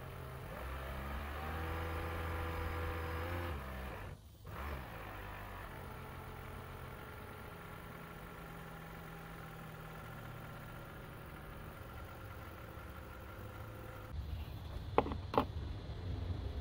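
A 2013 Toyota Prius engine idles steadily nearby during a water pump replacement, a low, even rumble that briefly rises and settles near the start, followed by a few clicks and clunks toward the end.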